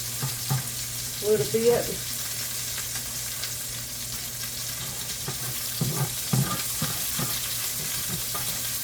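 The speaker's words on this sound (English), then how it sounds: "Get my onions stirred around" Onions sizzle steadily as they fry in a pan, with salt just added, while a utensil scrapes and stirs them in a few bursts; a voice speaks briefly over the frying.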